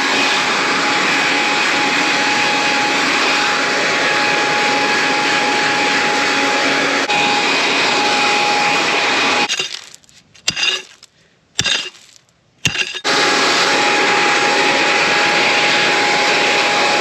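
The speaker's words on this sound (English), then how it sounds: "Are you not a fan of the blower?" A loud gas-powered blower clears debris and sticks from a cattle guard, roaring steadily and close by, then cutting out briefly with a few clunks before roaring again.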